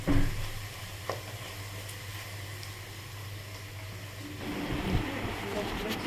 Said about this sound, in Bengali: এইভাবে এইভাবে এবার ভেজে নেব